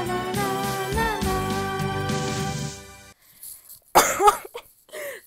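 A woman coughs a few times, close and fairly loud, right after a stretch of singing during a live stream.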